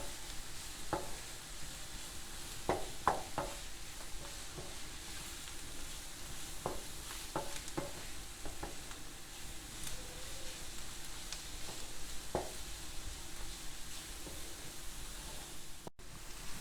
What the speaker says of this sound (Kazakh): Екеуін жақсылап қуырып аламыз